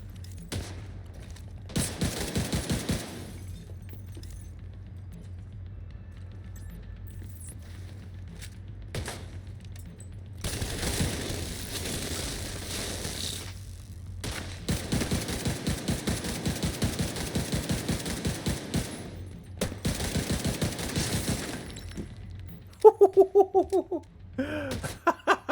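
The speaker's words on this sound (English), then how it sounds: "I love this rifle because I fire it slow, but then sometimes you just gotta remind yourself it is 420 rounds per minute" Bursts of light machine gun fire from the video game The Division 2 recur in rapid, evenly paced volleys separated by quieter pauses, loud and close, ending with a short electronic tone.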